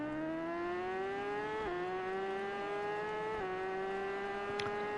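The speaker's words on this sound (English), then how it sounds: "So, I hear engines." Racing motorcycle engines in the game TT Isle of Man: Ride On The Edge 3, revving high with rising pitch and two brief gear-shift drops, a continuous near, steady whine without speech.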